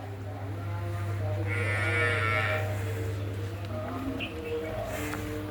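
A deep, drawn-out moo from a Nili-Ravi buffalo sounds nearby over a steady low hum, with faint background voices.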